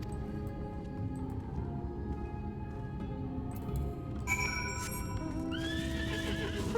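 A six-legged horse mount in the video game FFXIV whinnies loudly near the end after a stretch of steady clip-clopping hooves over game ambience.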